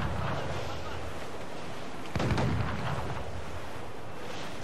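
Naval cannon fire in the video game Assassin's Creed 4 Black Flag: a single heavy boom bursts out midway through a constant rushing wind-and-sea rumble.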